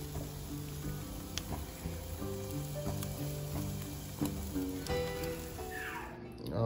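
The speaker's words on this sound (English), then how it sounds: "Now I'm about to put some butter on it." Butter sizzles and crackles on pineapple and steak on a grill, a steady hiss with scattered pops. Faint voices and background noise sit beneath it.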